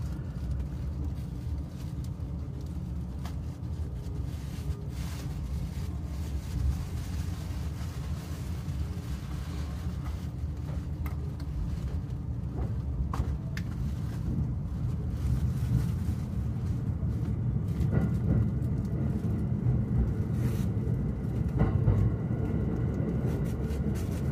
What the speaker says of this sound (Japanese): この電車は常磐線上野行きです。